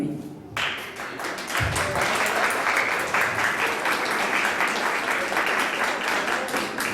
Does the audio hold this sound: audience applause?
yes